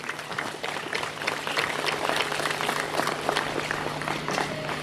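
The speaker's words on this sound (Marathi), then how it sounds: "जोरदार टाळ्या आपल्या टीचर्ससाठी." Applause for teachers at a school yoga day celebration builds into a steady clapping crowd, close and sustained.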